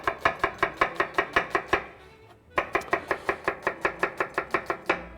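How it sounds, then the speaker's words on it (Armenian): A knife chops onion into sticks on a cutting board in quick, even strokes, a run of about a dozen sharp chops, a short pause, then another steady run, close and clear with no talking. "Սոխը կտրատում ենք"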